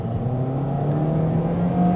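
Engine of a 2025 Toyota Corolla SE non-hybrid drones at high revs while accelerating, a steady close hum with a rising tone near the end.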